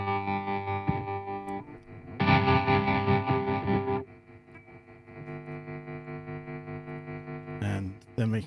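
Electric guitar run through the Guitarix software amp with echo effects, sustained distorted tones that surge loudly for a couple of seconds, then settle into a quieter droning hum before a short final burst.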